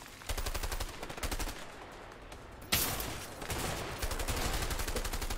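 Shotgun gunfire in the video game A Way Out, during a gunfight. Rapid volleys of shots come in dense, sustained bursts with a sharp louder blast midway, with no talk over them.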